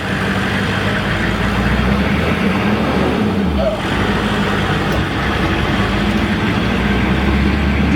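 A Humvee engine runs steadily and loudly on a test drive, a dense low rumble with a brief dip near the middle as the gear changes, continuing without pause throughout.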